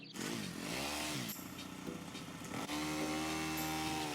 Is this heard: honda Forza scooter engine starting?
yes